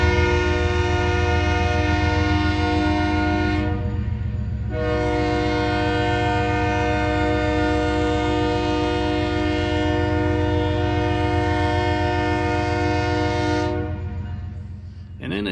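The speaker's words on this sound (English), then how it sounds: "that northbound BNSF unit grain train that was rolling through on the Seattle sub" A northbound BNSF unit grain train passes close by at a station platform on the Seattle subdivision, its loud horn blasting in a long chord that breaks briefly and resumes, over the heavy rumble of the train.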